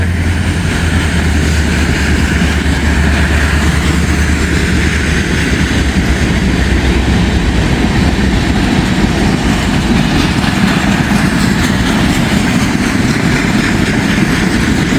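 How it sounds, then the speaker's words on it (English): A rail train of empty cars rolls past near Walton and Richwood, Kentucky, a steady, loud rumble of wheels and engine that holds evenly for the whole stretch, with no voices over it. "Empty rail train."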